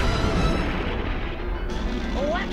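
A cannon fires in an animated cartoon, a loud heavy boom that rumbles and decays over a couple of seconds with effects noise after it.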